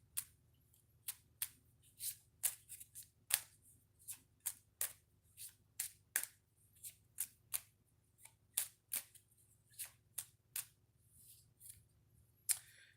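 Oracle cards being shuffled give a steady run of crisp, close paper snaps and flicks, roughly two per second, over a faint low hum, with no voices.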